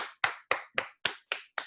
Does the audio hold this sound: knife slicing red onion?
no